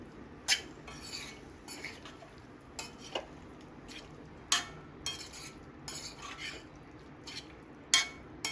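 Diced potatoes being stirred into bhaji in a pan, close metal spoon clanks and scrapes against the pan at irregular intervals over a quiet low background, no speech.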